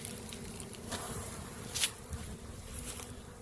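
A swarm of honey bees gives off a dense, steady buzz that fills the space close at hand, with brief louder swells where single bees pass near.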